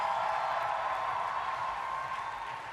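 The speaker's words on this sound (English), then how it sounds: "Big round of applause for her." Audience applause for a cosplay contestant at a cosplay championship, a dense, even wash of many hands clapping that holds steady and fades slightly toward the end, heard at a distance through a hall.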